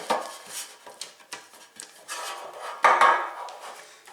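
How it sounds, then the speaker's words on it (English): Shortening being smeared around a 9-inch bread pan, soft scraping and rubbing strokes with light knocks of metal, close and intermittent, with no talking. "And you have to grease the pan."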